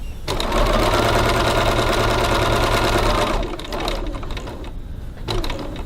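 Sewing machine running fast stitches through fabric, a loud close steady mechanical whirr for about three seconds, then stopping for brief pauses with short bursts of stitching after.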